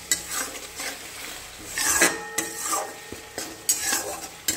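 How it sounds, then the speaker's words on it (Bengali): Turmeric being stirred into oil in a pan for fish curry: repeated scraping strokes of a spoon against the metal pan over a soft sizzle, close and uneven in rhythm. "তো চলো হলুদটা দিয়ে ভালো করে একটু নাড়াচাড়াটা করে নিই।"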